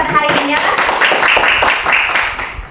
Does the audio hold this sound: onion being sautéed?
no